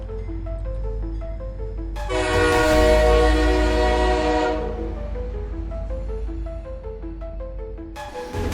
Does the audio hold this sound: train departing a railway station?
yes